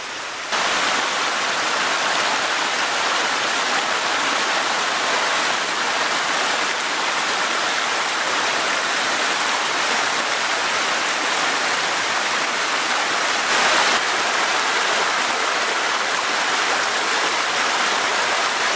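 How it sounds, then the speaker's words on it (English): A waterfall pours into small pools in woodland, a loud, steady, broadband rush of falling water that continues unbroken and fills the whole scene. "waterfalls and going into little pools of water and stuff."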